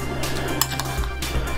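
Fruit salad being stirred together with strawberry yogurt in a bowl, giving soft clinks and scrapes of a spoon against the dish over a steady low hum, with no talk.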